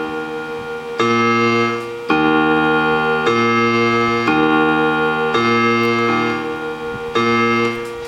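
Piano left-hand accompaniment from the Zelda Ganon's Castle theme, a steady repeating pattern of sustained low chords and octaves played alone, loud and even, with chord changes roughly every second.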